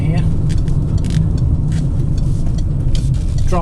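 Citroen Berlingo LPG van heard from inside while driving and pulling in, a steady low engine and road rumble throughout, with a person talking over it.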